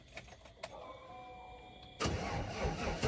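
A pickup truck with dual exhaust cranks and fires up after a few faint clicks and a starter whine, then settles into a loud, steady rumble close by.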